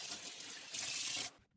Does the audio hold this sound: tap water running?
yes